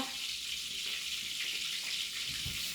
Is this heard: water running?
yes